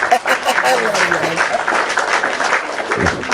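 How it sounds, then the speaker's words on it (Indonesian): A small group claps for a man, steady applause running the whole time, with voices talking over and through it. "tepuk tangan buat Bapak ini"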